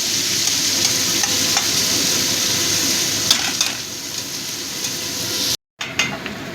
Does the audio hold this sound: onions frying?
yes